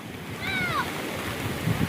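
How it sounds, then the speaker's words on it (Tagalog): Strong wind at Patungan Beach rushes and buffets the microphone with a broad, continuous roar, mixed with a faint whistling tone and surf-like noise. "At malakas ang hangin"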